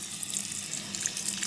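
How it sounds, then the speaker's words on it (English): Water poured from a watering can onto cacti and succulents in a display bed, splashing and soaking into the gritty substrate; a steady close, quiet trickle and patter lasting the whole stretch, with no voices. "basically just watering nicely around the plants"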